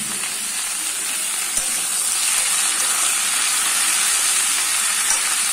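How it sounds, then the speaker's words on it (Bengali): Vegetables fry in a pan with a loud, continuous sizzle, close and unbroken, and a faint stirring knock partway through. "তো 5 থেকে 10 মিনিট মতন ভাজা হবে"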